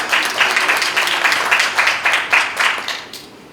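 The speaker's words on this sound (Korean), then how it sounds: "특임 교수님 박수로 맞이해 주시기 바랍니다" An audience at a UN World Habitat Day ceremony in Korea applauds to welcome a special professor, a moderate burst of clapping with rhythmic swells that tapers off toward the end.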